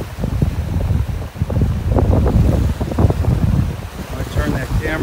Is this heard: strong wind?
yes